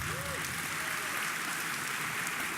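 A summit audience applauds in a continuous, even wash of many hands, heard from a distance like steady hiss.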